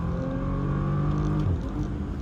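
A Bentley Continental GT with its 6.0-litre W12 engine pulls hard in a low, smooth drone, the engine note rising steadily through the gear before dipping briefly, heard from inside the car.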